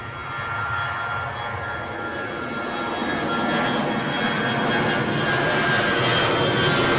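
A jet airliner takes off from Edinburgh airport, its engine roar heard from outside, steady and rising in loudness as the aircraft nears rotation.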